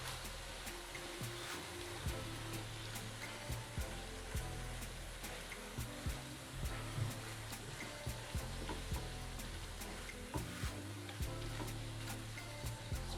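Minced meat fries with whole cumin and a piece of cinnamon in a pan, a constant close sizzle broken by repeated scraping clicks of a spoon stirring through it.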